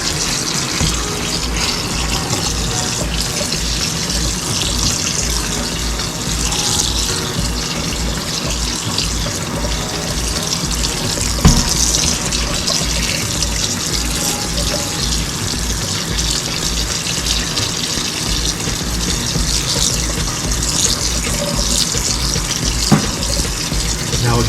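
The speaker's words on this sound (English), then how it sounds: "run some cold water on it to stop the cooking" Cold water running from a kitchen sink tap over drained gluten-free pasta in a colander, a steady close gushing splash that continues without pause, with faint clinks now and then.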